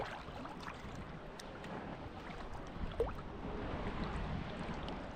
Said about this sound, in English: And there is a boat passing by